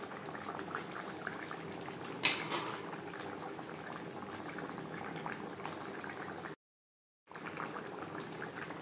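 Silver carp and potato curry simmers in a pot with a soft, continuous bubbling, faint and close. A sharp clink sounds early on, and there is a brief silent gap near the end.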